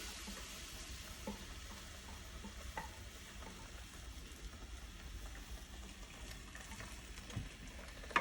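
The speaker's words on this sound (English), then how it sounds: "Just gently sauteing and stirring until it thickens and reduces a little bit" Tomatillo salsa gently sautéed and stirred in a pan as it thickens, a steady faint sizzle with occasional soft spoon scrapes throughout, no talking.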